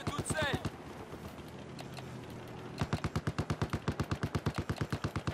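Automatic gunfire in Battlefield 4 multiplayer, near and sharp: a short burst at the start, a lull with voice chat, then a long rapid, evenly spaced string of shots to the end.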